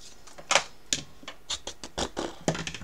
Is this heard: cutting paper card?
yes